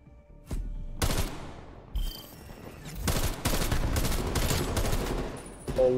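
Gunfire in Call of Duty: Cold War, with loud bursts and single reports breaking out after a short lull, then sustained rapid fire over several seconds, close and dominant with no talking.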